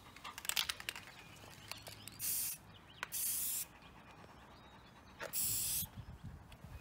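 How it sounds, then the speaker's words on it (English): Three short bursts of spray paint, hissing through a paper cloud stencil onto a painted rain barrel, each lasting about half a second with small clicks and handling noise between them, close and with no talk. "you can make a little cloud stencil and then you can just spray it on your barrel"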